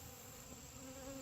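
Honey bees fan nectar at the entrance of a colony hive, a dense, continuous buzzing drone that is steady and fairly faint, with no voices.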